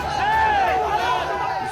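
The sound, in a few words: crowd shouting slogans at a flag protest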